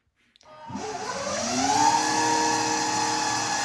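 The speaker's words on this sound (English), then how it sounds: "if you pull up on it, you can activate the motor" An Electric Yacht 10 Sport electric boat motor starts from silence and spins up. Its whine rises in pitch over about a second, then settles into a steady, fairly close hum.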